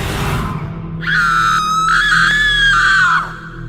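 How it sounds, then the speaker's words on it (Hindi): A woman lets out a single loud, sustained high-pitched scream lasting about two seconds over a low rumbling background. "वो तेज चिल्लाती है।"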